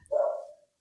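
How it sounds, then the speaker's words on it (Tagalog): One sharp dog bark sounds nearby, a single short woof lasting under a second, alone and clear with no talk over it. "pasensya na sa ingay ng aso."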